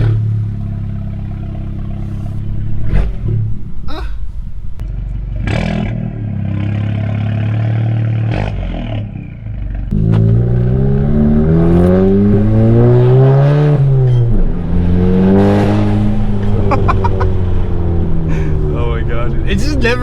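A straight-piped Stage 2 MK7 Golf GTI with stock turbo and stock clutch accelerates hard from inside the cabin, its exhaust rising through the gears, with people talking over it.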